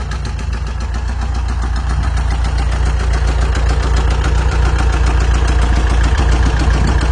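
A 1978 Volkswagen T2b Westfalia camper van engine idles throughout, a low, even rumble with a faint rhythmic chug, close by and constant with no voices.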